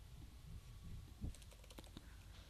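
Computer keyboard typing, a short run of light, quick keystrokes close by in a quiet room.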